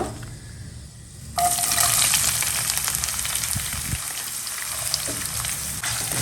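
Chopped onion drops into hot oil with bay leaf, cinnamon, cloves and peppercorns, a quiet stretch giving way to a sudden loud burst of close frying that settles into a steady crackling sizzle, with a few clinks of a utensil.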